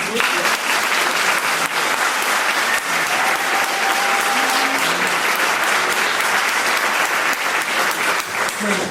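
Audience applause at a mental health and wellbeing conference, steady sustained clapping from a crowd lasting several seconds, loud and continuous, with some voices mixed in.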